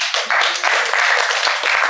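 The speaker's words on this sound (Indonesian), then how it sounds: "Kasih tepuk tangan dong." An audience applauds at an Indonesian charity webinar event: dense, steady clapping runs for about two seconds at close range, with a voice faintly mixed in.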